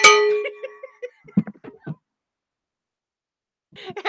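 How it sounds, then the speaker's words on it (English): A cowbell struck with a dinger rings out as a few bright metallic clangs at the start, then fades into scattered knocks and handling sounds, followed by silence. "Everybody says, more cowbell."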